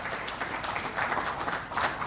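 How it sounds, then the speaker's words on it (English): At an IPO conference, a crowd claps for the regulators, a moderately faint but continuous patter of many hands that swells in small waves toward the end, with no voices over it. "I think they deserve a bigger hand clap."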